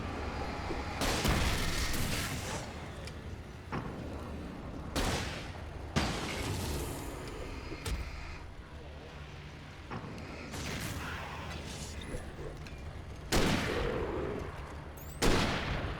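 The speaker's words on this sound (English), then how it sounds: "Flare gun." Flare gun shots in the video game Alan Wake: several sharp, loud bursts spaced irregularly, each followed by a fizzing hiss and decaying rumble, with quieter ambient noise between them.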